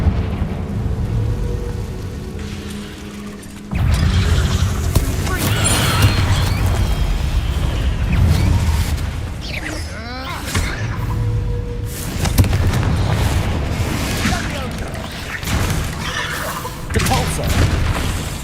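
Confringo and Bombarda spells burst in Hogwarts Legacy combat, heavy booms and crashing impacts landing amid dense game effects, loud and close, with a voiced incantation called out over the blasts.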